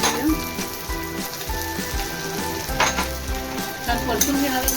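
Garlic and coconut sauté with onion already browned in a pan for quick misal, a loud, dense sizzle with regular stirring scrapes over background music.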